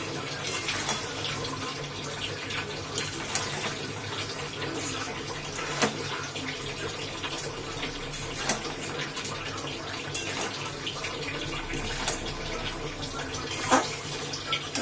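Sugar syrup for a raw mango preserve boils in a pot, a steady bubbling and hissing with occasional sharper pops, close and moderately loud.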